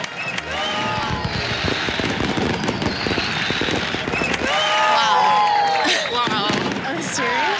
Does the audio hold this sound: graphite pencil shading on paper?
no